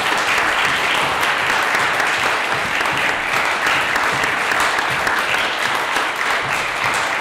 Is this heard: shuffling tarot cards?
no